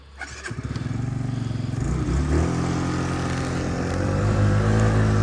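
A small Yamaha Jog SA36 fuel-injected scooter engine starts with sputtering pulses, then settles into a steady, loud idle that stays close and continuous.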